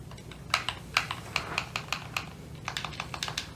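Clicky, tactile buttons on a Jungle Green Nintendo 64 controller being pressed, a run of sharp, close plastic clicks in irregular bursts with no one talking.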